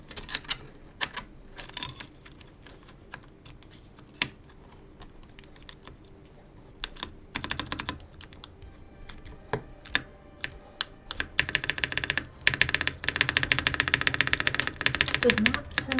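Typing on a custom Mode Sonnet mechanical keyboard during a build, scattered sharp key clicks at first, then a dense, fast burst of clacking toward the end, close up.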